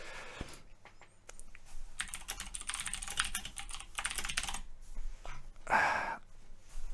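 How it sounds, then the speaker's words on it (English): Computer keyboard typing close to the mic, bursts of quick rattling keystrokes in irregular runs separated by short pauses, with a sharper clack near the end. "I'm typing at you on the stream right now. They can hear it."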